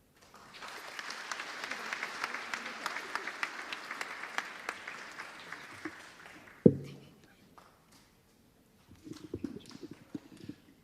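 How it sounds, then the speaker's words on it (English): Audience applause at a school prize assembly, a sustained round of clapping that ends abruptly with a loud thump, then a short burst of scattered claps after a pause. "one more big round of applause"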